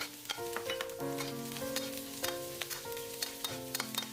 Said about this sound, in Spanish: agregue el ajo picado. El pimiento verde y rojo. Revuelva.